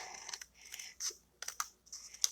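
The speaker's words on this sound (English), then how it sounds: "take our paper snips and cut through both layers at the same time" Paper snips cut through two stacked layers of cardstock paper while a flower-pot card is being made, giving a quiet series of crisp, short snipping clicks in irregular bursts, close and alone.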